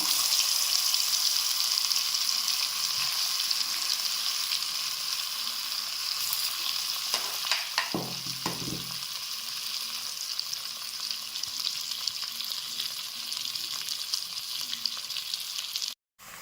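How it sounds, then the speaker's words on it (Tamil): Potatoes fry in hot oil with a steady, bright sizzling hiss that runs the whole time, briefly interrupted by a few scraping stirs and clinks near the middle, with no talking. "இந்த பொட்டோட்டாவை நாம் வந்து சும்மா ஒரு வாட்டி ஃப்ரை பண்ணி எடுத்துக்கலாம்."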